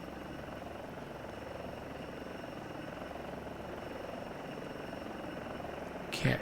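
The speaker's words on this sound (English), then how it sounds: "Oh, somebody's got a helicopter going here." A helicopter in a flight simulator game drones steadily and evenly throughout, a continuous rotor and engine hum at moderate level, ending in a brief louder burst.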